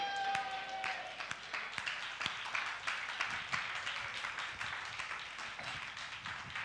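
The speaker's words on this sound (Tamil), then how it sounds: "கைத்தட்டுங்க." A church congregation claps together during a promise service, a dense, steady patter of many hands that stays fairly quiet and distant throughout, with no talking over it.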